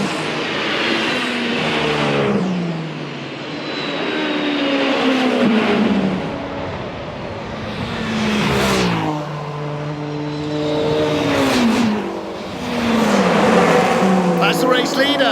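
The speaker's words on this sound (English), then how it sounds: "Look at the battle behind Yiffy Yi in the gold Toyota car, and alongside him Gustavo Menezes, side by side." Toyota and Porsche prototype race cars battle side by side at the 24 Hours of Le Mans through the Porsche Curves, engines rising and falling in loud repeated revving passes with shifting pitch, under steady commentary talk.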